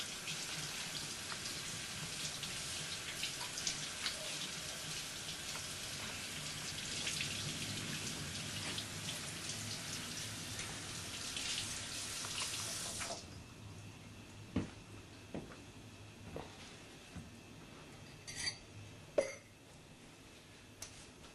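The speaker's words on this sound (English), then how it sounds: "I'm also going to rinse my hands to get some of this stuff off." A kitchen tap runs steadily as hands are rinsed, a broad rushing hiss that cuts off abruptly, leaving scattered drips and small clicks.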